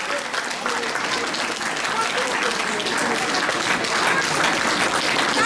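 A church congregation at a Kathmandu anniversary gathering claps steadily, a dense even wash of applause from many hands filling the room for several seconds, with voices faintly mixed in.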